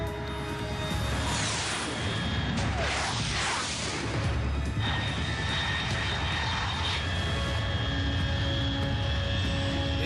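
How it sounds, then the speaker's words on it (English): A fast jet aircraft flying overhead at high altitude in the game Metal Gear Solid 3, a loud sustained roar that sweeps and swells in the first half before settling into a steady drone. "Unidentified aircraft detected."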